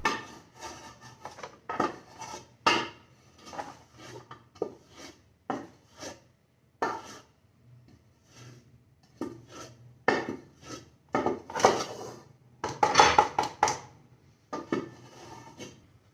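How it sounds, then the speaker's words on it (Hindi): Dishes are washed in a home kitchen after dinner: pots, pans and cutlery clink and scrape in irregular bursts, with brief quiet gaps and running rubbing noises, and nobody speaks. "किचन मैंने नीट करना है और बर्तन मैंने धोने हैं"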